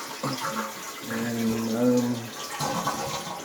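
A toilet flushes and refills through a newly installed Korky QuietFILL universal fill valve, with rushing, gurgling water building to a swell and then settling, while a man briefly starts to speak.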